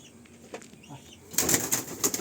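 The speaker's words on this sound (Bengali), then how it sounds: "পায়রাগুলো প্রচণ্ড এই ঘরের মধ্যে দৌড়াচ্ছে চারিদিকে দৌড়াচ্ছে" Pigeons scuffle and flap their wings inside a loft, a flurry of rustling and wingbeats that grows louder partway through.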